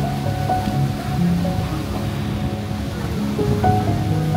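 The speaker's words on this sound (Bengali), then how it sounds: "চারপাশে শুধু ঢেউয়ের শব্দ।" Sea waves wash onto a beach at Phi Phi Island in steady, continuous surf, with faint music and background ambience layered over the wash.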